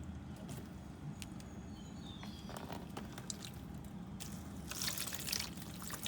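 Water trickles and splashes softly into the soil of a potted hydrangea, a faint gentle pour that grows a little louder toward the end.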